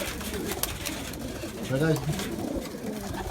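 Racing pigeons coo in a loft, a short rounded call rising out of a busy background of birds and wing shuffles while someone talks nearby.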